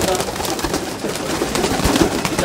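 Pigeons coo in a backyard pigeon loft at a keeper's home in Chandigarh, their soft, overlapping calls repeating steadily over a busy, noisy background.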